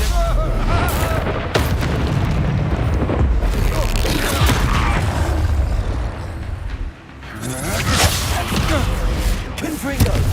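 A Confringo fire spell blast in Hogwarts Legacy, heavy booming explosions and rumbling combat effects running continuously at high volume, with voices mixed into the game audio.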